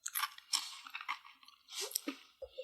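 Quiet, close crunching from chewing a crunchy black pyramid-shaped spice, several crisp bites and grinding chews in an irregular rhythm with no talking.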